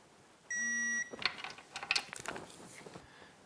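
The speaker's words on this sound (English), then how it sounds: "Also going to torque our trim tab bolt to 29 foot-pounds as well." On a Yamaha 90 outboard (B90TLRX), a torque wrench tightens the trim tab bolt: a short tonal beep, then a few close, quiet ratcheting clicks and metallic handling.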